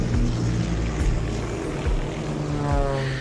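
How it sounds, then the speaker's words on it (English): Recovery helicopter hovering over the sea to lift a space capsule, a loud, steady engine and rotor drone with a low throbbing rumble that fills the whole stretch, no voices. "recovery helicopters were unable to lift his space capsule from the sea"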